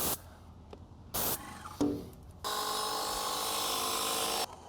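A harsh, rattling spray noise from a house paint sprayer pump losing suction starts after some short bursts and runs steadily for about two seconds, a sputtering sound with a gritty, uneven edge.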